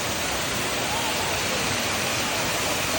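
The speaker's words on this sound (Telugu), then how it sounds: "ఇది కటిక జలపాతం" Katika waterfall roars in a dense, steady rush of falling water, loud and unbroken throughout with no other sounds standing out.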